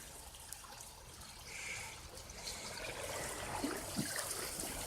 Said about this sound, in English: There's some kind of water outlet.